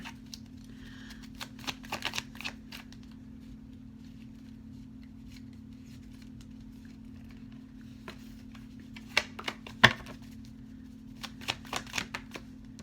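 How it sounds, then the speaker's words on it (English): Tarot cards being shuffled and drawn by hand: soft riffling and scattered crisp card snaps over a steady low hum, with a denser cluster of sharp flicks near the end. No one speaks. "I'm going to take a card from here as well."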